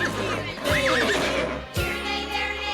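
A horse neighs in a high, wavering whinny over a bouncy children's tune, heard clearly above the music.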